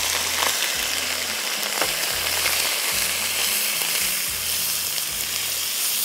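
Bay leaf and whole garam masala frying in hot oil for a shahi chicken qorma, heard as an even, close sizzle with faint crackling and a low, intermittent stirring thump underneath.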